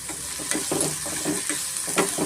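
Onions and capsicum fry in a pan, a close, continuous sizzle broken by soft scraping strokes of a spatula roughly twice a second.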